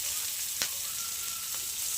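Cumin seeds sizzle in hot oil as a steady, close, even frying hiss, broken by two brief clinks or stirs.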